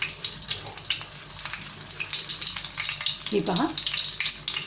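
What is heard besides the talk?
stuffed green chilli roasting in pan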